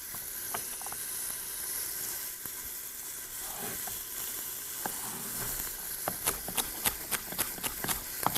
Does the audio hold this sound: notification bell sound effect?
no